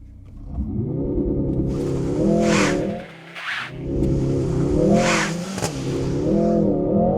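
A 2025 Mercedes-AMG GLC 63 S E Performance accelerating hard in race mode, a loud close engine roar climbing through the revs with brief dips at gear changes.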